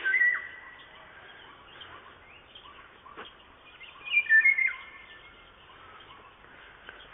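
Several birds sing and chirp in a forest around Floresti, with sharp, scattered calls rising over a quiet background and a brief busier burst of song partway through.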